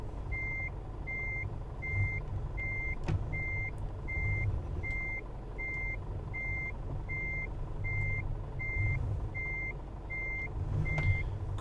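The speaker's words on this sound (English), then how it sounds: "Back this truck in." A truck backs up in Euro Truck Simulator 2, its reversing alarm beeping steadily about once per second over a constant low engine rumble, with no talking.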